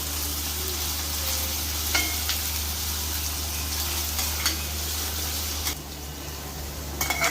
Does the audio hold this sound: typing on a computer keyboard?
no